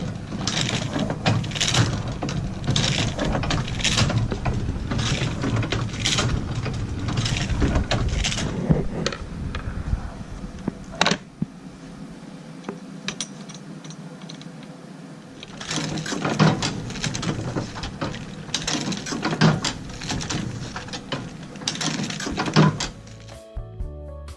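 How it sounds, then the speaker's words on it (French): An old small-format printing press for commercial job printing runs with a rapid, rhythmic mechanical clatter of repeated thunks. It pauses briefly midway, then resumes loud and close. "Ça, c'était une des machines dédiées à l'imprimerie de ville, pour le petit format."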